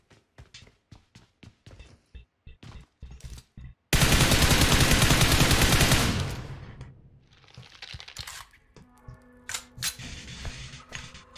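Gunfire in PUBG Mobile: a run of spaced single shots, then a loud sustained burst of automatic fire lasting about two seconds, followed by scattered further shots.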